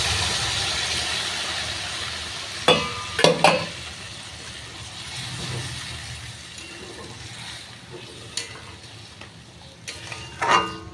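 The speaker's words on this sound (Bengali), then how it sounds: "এবারটা কষানো হয়ে গেছে এটা দু কাপের মতো একটু গরম জল দিয়ে দিলাম" Hot water, about two cups, poured into a pan of sautéed spices, bringing a steady sizzle with a few sharp bursts and clatters of stirring close by.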